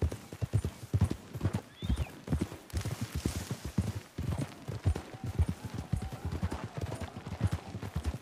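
Rapid clip-clop of horse hooves galloping in Red Dead Redemption 2, with a horse neighing partway through and some rustling movement, moderately loud and close.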